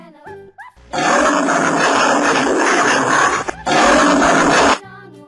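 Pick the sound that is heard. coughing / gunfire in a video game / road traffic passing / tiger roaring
tiger roaring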